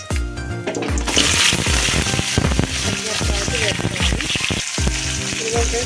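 Green chillies fry in a hot pan for ridge gourd chutney, giving a loud, continuous sizzle broken by repeated stirring scrapes and clatters throughout.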